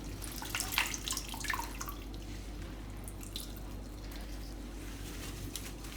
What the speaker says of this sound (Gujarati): આ રીતે પાણી નિતારી દેવાનું